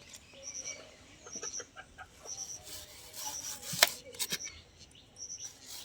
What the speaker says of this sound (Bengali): এবার আমি পিস পিস করে কেটে নেব।